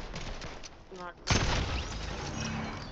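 Blue SMG fire in the Fortnite video game, a burst of rapid shots that booms in midway and keeps rattling along, with voice chat heard alongside.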